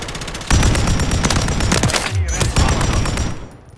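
Rapid automatic gunfire and bursts in Call of Duty Modern Warfare 3 multiplayer, loud and close, with a deep boom near the middle and voices calling out under the shooting.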